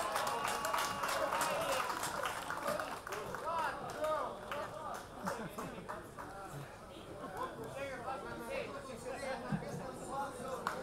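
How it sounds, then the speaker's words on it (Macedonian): An audience at a Balkan ethno music concert applauds steadily, with dense clapping mixed with crowd chatter and voices throughout. "Ќе ги поздравиме со еден голем аплауз"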